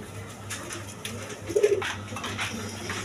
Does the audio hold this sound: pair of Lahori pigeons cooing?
yes